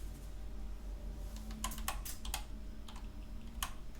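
Arrow keys on a computer keyboard are tapped in a handful of sharp, irregular clicks over a steady low hum, close but light, with no talking.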